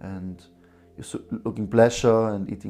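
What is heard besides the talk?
No everyday noise stands out behind the speech.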